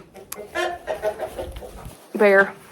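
A rooster clucks and lets out a short crowing call up close, with a brief break in between and some faint background noise.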